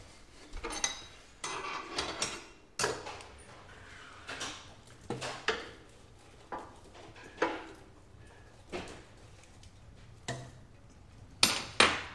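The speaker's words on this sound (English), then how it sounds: "I'm gonna go ahead and get the fire logs in there now" Firewood logs are set one by one into a wood stove, giving a series of sharp knocks and clunks spaced irregularly about a second apart, near and fairly faint, with quiet between them.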